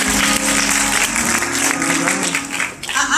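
A church congregation claps their hands in praise, a dense, loud wash of applause with voices mixed in throughout.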